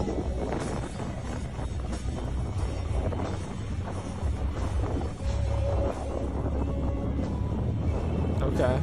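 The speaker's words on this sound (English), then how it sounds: "it's so windy. You can hear it in the camera." Wind buffeting a microphone in a steady low rumble with gusty roars, continuing throughout, with faint voices underneath.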